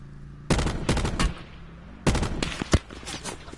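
Gunfire in a Blackout battle royale video game comes in two loud rapid bursts of shots, with one sharp standalone crack near the end and no talking.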